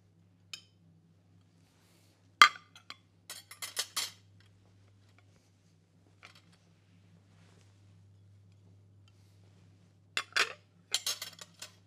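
Plates and bread plates set out on a table during guest service, sparse clinks and ceramic knocks in short clusters separated by quiet pauses.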